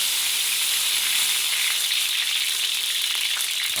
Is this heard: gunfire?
no